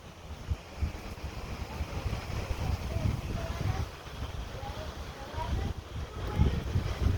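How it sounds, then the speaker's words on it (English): Gusty wind buffets the microphone in uneven low rumbles, rising and falling throughout, with faint speech partly buried beneath it. "it's very windy"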